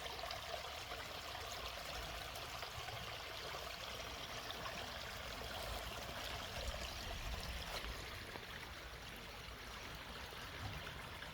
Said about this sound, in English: I wish that little old waterfall was about 2 feet taller. And that pool right there was about 3 feet deeper.